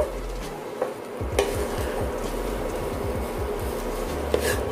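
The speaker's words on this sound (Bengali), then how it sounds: "এখন এটাকে আমি ভালো করে আগে নাড়াচাড়া করে মিশিয়ে দেব।" A spoon stirs and mixes cooked semolina in a pan, giving a steady scraping, rasping rhythm close by with faint sizzling beneath.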